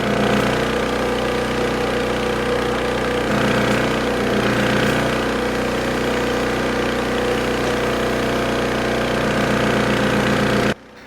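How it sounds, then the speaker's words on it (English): An air generator runs at a railway derailment recovery, inflating pneumatic lifting devices under a derailed steam locomotive: a loud, steady mechanical drone with a hammering, engine-like pulse that continues unbroken for about eleven seconds, then cuts off abruptly. "An air generator was started, and under the latter's tremendous noise, the pneumatic lifting devices were slowly inflated"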